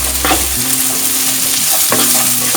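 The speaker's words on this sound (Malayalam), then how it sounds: "എന്നിട്ടൊന്ന് മിക്സ് ചെയ്ത് കൊടുക്കാം." Sliced onion being stirred into chicken frying in a pan for Kerala-style dragon chicken, with steady sizzling and two bursts of spatula scraping and stirring, close and loud.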